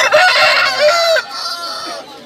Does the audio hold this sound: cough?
no